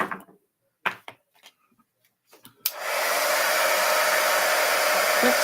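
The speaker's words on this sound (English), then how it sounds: "Let's quick throw that heat embossing on there." A heat embossing tool blows hot air in a steady, loud, continuous roar that starts after a few seconds of quiet handling noises and small clicks while crafting.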